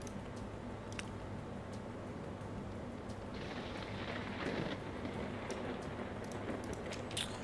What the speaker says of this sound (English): Just hearing lightning in the distance.